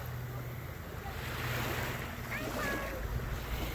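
Ocean waves wash and break along a beach, a continuous surging roar with gusts of wind buffeting the microphone and faint voices in the background.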